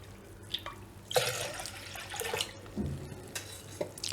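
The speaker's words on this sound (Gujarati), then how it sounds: "આપણે ત્રણ ગ્લાસ પાણી એડ કરશું આમાં" Water poured from a glass into a cooking pot to boil Maggi noodles, a close, irregular splashing and trickling with a few louder gushes, no talking.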